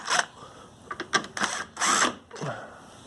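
A Phillips screwdriver backs screws out of the recoil housing on a Toro Recycler 20331 lawn mower, giving short, scratchy, ratcheting bursts in four separate spurts with pauses between them, close up and with no talking.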